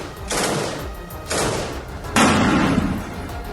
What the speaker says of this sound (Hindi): इजरायल के सैनिकों ने एक मकान को टारगेट किया और अंदर घुसने से पहले दरवाजे पर गोली चलाकर चेक किया कि अंदर कितना बड़ा खतरा है।